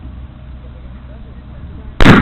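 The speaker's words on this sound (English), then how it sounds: "at close range, is fire a blank at that can." A single blank round fired at close range at a can, one sudden loud sharp blast at the end following a quiet outdoor background.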